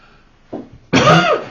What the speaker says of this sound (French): Je vais pas éternuer, je vais tousser.